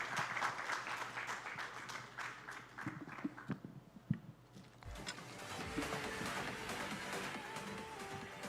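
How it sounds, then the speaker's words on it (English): Audience applause at an Indian startup summit (ET Soonicorns Summit 2023) fills a large hall, a steady broadband wash of many hands clapping that swells near the end, with faint voices and stage noise mixed in. "A big round of applause for them"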